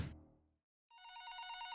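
A telephone rings as a sound effect, a bright rapid electronic trill that starts after a brief thump and a moment of silence, steady and fairly faint.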